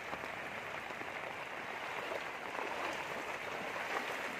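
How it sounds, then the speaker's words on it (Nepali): Floodwater gushes out of houses in flooded Halgada, Itahari, after continuous rain: a faint, steady rushing wash of water with no voices over it. "ल, सबै घरबाट पानी गुटुङटुङ।"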